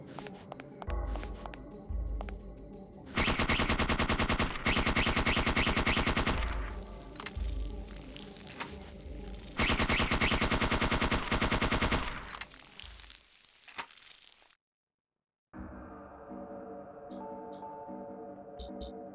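Sustained automatic gunfire in the video game Parasite Eve II, two long loud bursts of rapid shots with quieter single shots between them, ending in a brief silence before softer game sounds.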